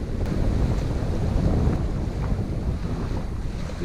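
Steady breeze rushing across a sailboat crossing Green Bay on Lake Michigan in spring, a continuous low roar of wind buffeting the microphone with water sloshing underneath, loud and unbroken throughout.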